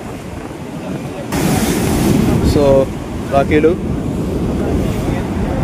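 Waves at the Nagarjuna Sagar dam keep up a continuous rushing surge with heavy wind noise, and someone speaks briefly over the water partway through.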